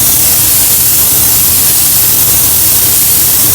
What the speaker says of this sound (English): sometimes you're gonna have to use your other hand to spray it